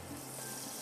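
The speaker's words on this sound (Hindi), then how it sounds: "अदरक को रख दिया था यहाँ पर फ्राई करने के लिए" Ginger frying in butter and oil in a pan while cooking sarson ka saag, a steady, close hiss of sizzling fat with no talk over it.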